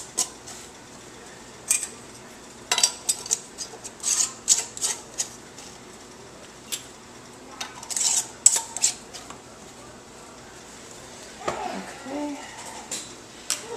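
Repeated light metallic clinks and clatters of lids and rings set onto glass jam-canning jars, close by, in irregular bursts with brief pauses and a short murmur near the end.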